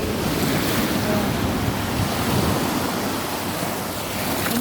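Ocean waves and wind at sea roar in a continuous, loud wash of broadband noise, with steady wind buffeting the microphone and no clear breaks between surges.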